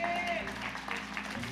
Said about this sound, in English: Let's give them a hand clap of encouragement.